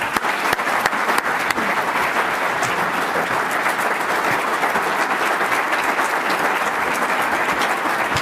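Sustained, dense applause from a large audience at a law-enforcement officer safety and wellness symposium, steady and loud throughout as the crowd stands in ovation, with no speech over it.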